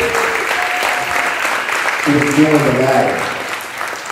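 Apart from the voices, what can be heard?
audience applause for young people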